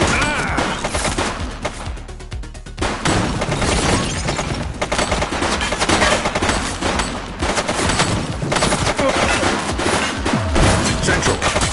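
Suspect firing a gun during a police chase in The Precinct video game: loud, dense bursts of gunfire and crashing impacts run through nearly the whole stretch, with a brief lull early on.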